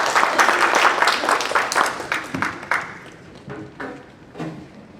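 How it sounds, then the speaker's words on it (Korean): A church congregation at an evangelism seminar gives loud applause to welcome a deacon. The clapping is dense and close at first, then thins to a few scattered claps as it fades out. "큰 박수로 환영했습니다"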